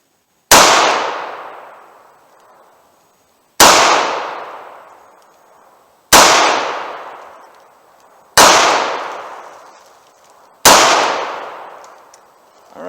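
Five sharp gunshots from a Smith & Wesson 342 PD snub-nose revolver firing .38 Special 170-grain Keith semi-wadcutter lead rounds, spaced a few seconds apart, each loud and close with a ringing decay outdoors.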